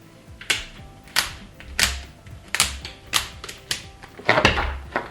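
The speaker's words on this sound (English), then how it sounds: "the pages just kind of snap in and out" Paper pages snap in and out of the discs of a disc-bound notebook, giving a string of about eight sharp, crisp clicks at a steady, roughly half-second rhythm, close and clear, with no talk.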